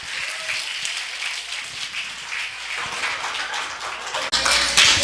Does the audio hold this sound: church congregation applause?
yes